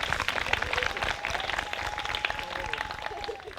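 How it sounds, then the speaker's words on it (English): Wedding guests applaud together, a dense and steady clapping that fills the whole stretch, with a thin whistle or cheer rising above the hands. "Everyone give them a round of applause."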